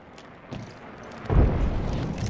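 A frag grenade detonates in Apex Legends: quiet battlefield ambience with a small pop, then a sudden deep boom that rumbles and lingers for about a second.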